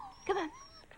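A fluffy dog in a horror film lets out a short, high whimper, a brief whining yelp that rises and falls, fairly faint.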